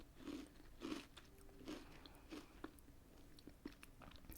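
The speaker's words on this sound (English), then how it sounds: "The nice crisp snap." Close, quiet bites into a thin crisp biscuit, a handful of snappy crunches spaced across a few seconds, alone without any voice.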